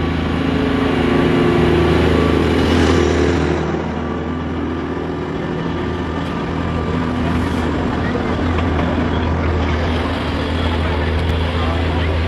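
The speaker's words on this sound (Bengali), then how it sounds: "এটা ডিজেল ইঞ্জিন" A diesel locomotive passes with a loud, steady engine drone and rumble that holds throughout, with faint voices in the background.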